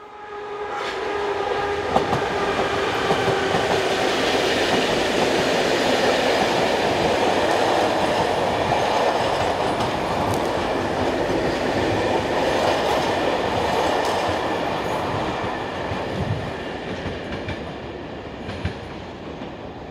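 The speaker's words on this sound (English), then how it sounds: "Our final look at the Class 2000 electric units now, as numbers 18, 2 and 7 head northbound for the branch up to Diekirch." Class 2000 electric multiple units run northbound in Luxembourg toward Diekirch, passing with a loud continuous rumble and rail noise, steady wheel clatter and a faint whine fading slowly toward the end.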